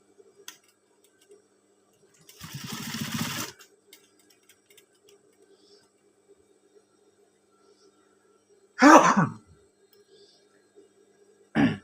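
A sewing machine stitches a scout uniform shirt in two short, close bursts of rapid whirring, a longer run followed later by a louder brief one, separated by near silence.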